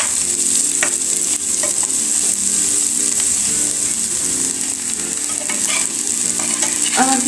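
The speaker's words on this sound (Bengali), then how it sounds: "আমি কিন্তু এইভাবে নেড়ে চেড়ে ভেজে নিচ্ছি পেঁয়াজ আর রসুন" Onion, garlic and green chillies fry in hot oil, a loud steady sizzle close up, with occasional scraping taps of a utensil as they are stirred.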